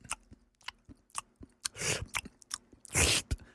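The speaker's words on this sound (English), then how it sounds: "Loud chewing." Someone loudly chews a snack close to the mic, with irregular crunchy bites and wet smacking bursts, a few heavier crunches standing out, and no talking.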